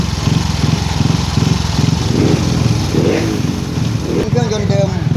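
Motorcycle fitted with an APITECH fuel-injection conversion kit, engine running smoothly with a steady, even putter close by, while someone talks over it.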